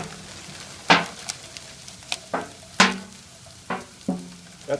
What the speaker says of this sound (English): I am going to just pour some liquid nitrogen on it.